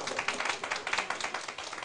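A seated audience at a lecture claps in a quick, even burst of many hands, a dense patter of slaps that holds steady and then begins to thin out.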